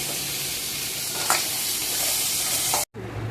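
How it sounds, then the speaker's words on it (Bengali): Cumin seeds and a bay leaf crackle and sizzle in hot oil for a Bengali tempering, a steady close frying hiss with a brief stir sound, then a sudden short drop to silence before the sizzle returns. "এই আমি জিরে আর তেজপাতা দিলাম ফোড়নে"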